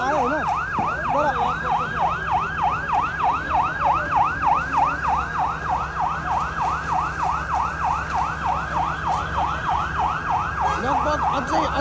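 Fire engine sirens wail at a large fire in Kathmandu, a rapid repeating rise-and-fall cycle, loud and continuous over a low engine hum and street noise.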